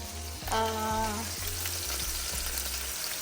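Tomatoes sizzle steadily in a hot pan for chicken caprese, a close, continuous frying hiss with a brief tonal ring near the start and soft low thumps recurring underneath.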